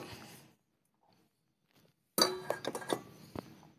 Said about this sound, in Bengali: তার জন্য আমি রাইস কুকারের মধ্যে বসিয়ে দিচ্ছি